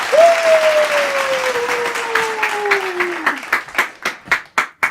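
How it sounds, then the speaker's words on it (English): A crowd claps for a Thomas Edison character, dense applause that thins into a few loud, evenly spaced claps, with a long falling whistle-like tone running through the first few seconds. "Can we get a big round of applause for the one, the only, Thomas freaking Edison?"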